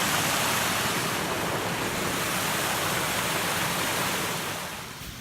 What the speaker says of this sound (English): Path runs right next to the stream, loads of little waterfalls